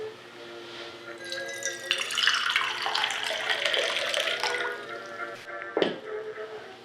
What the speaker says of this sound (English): Then you add the cold water.